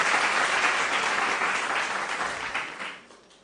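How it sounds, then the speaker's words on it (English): Steady applause from a crowd at a quiz event, loud at first and gradually tapering off over a few seconds. "A round of applause for both teams, please."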